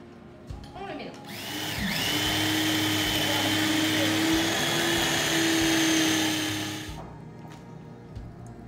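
A food processor whirs steadily, spinning up after a few brief knocks, running loudly for about five seconds with a clear motor hum, then cutting off.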